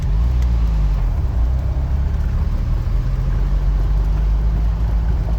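A Jeep Wrangler engine drones loud and steady on a forest trail, a continuous low rumble with no clear break for a gear change.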